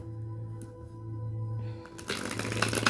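A burst of papery riffling, tarot cards being shuffled close by, starting after a quiet stretch with a low steady hum underneath.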